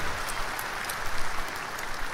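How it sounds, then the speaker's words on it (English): An audience claps steadily for a couple of seconds, a dense, even patter of applause in a studio show setting with no voices over it. "You got applause going for you."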